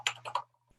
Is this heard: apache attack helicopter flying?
no